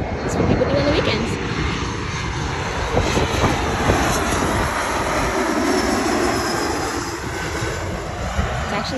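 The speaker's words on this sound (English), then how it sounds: "you watch the planes come in" A plane's engines roar overhead as it comes in to land, a broad rumbling drone with wind buffeting, while people talk nearby.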